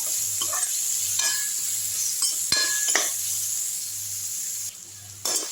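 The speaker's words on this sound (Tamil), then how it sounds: "இதுலேயே வெங்காயத்தை போட்டுருங்க. நல்லா சேர்ந்து வதங்கட்டும்." Sliced onions sauté in a hot pan with a steady sizzle, while a spoon scrapes and stirs against the metal in repeated strokes, with occasional clinks, close by and without voices.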